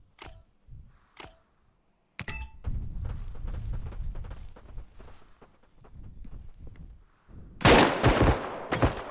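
Gunshots from the shooter game Bodycam, fired from a single-fire gun: a few sharp, separate cracks early on, then a loud cluster of shots near the end, over quieter in-game movement and clatter.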